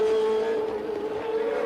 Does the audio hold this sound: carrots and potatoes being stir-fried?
no